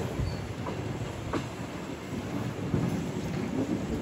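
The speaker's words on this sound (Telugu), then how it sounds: "మన ట్రైన్ జర్నీ అయితే స్టార్ట్ అయింది కదా" Onboard a MEMU passenger train running out of Rajahmundry, a low continuous rumble of wheels and carriage with a few soft knocks and thuds, fairly quiet and steady, with no talk.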